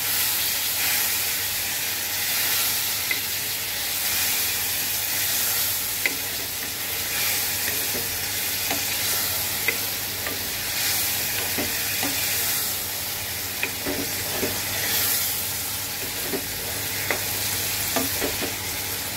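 Fish curry masala with golsa fish sizzles steadily in a pan while a spoon stirs it, with a constant hissing fry and soft intermittent scraping knocks.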